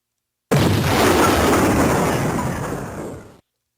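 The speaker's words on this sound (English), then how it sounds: "that is the sound of my mind exploding" A single deep explosion sound effect bursts in suddenly, then a broad rumbling roar sustains for about three seconds and fades before stopping, loud and alone.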